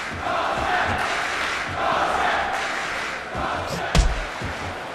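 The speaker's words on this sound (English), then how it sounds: "the crowd is in favor of Josh Koscheck" An arena crowd roars and cheers through a Josh Koscheck versus Baroni MMA fight, a steady loud wash of voices with swells and a sharp slam near the end.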